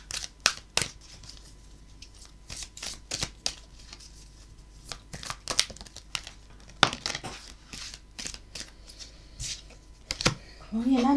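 Oracle cards are shuffled and drawn by hand, giving a series of sharp, irregular riffling and snapping clicks with crinkly card noise between them, close and fairly clear.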